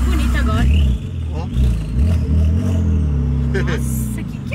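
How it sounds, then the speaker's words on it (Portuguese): Pink Porsche engine revving up and easing off repeatedly, deep throbbing surges that rise and fall in loudness, heard close while people talk excitedly over it. "Ela tá acelerando e reduzindo. Acelerando e reduzindo."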